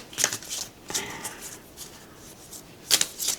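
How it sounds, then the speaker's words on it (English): Slippery tarot cards riffle and slide in a few short bursts, soft shuffling with quiet pauses between. "shuffle them this way."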